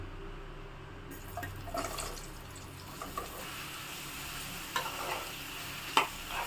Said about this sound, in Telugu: ఇప్పుడు మష్రూమ్స్ను వేయించుకోవాలండి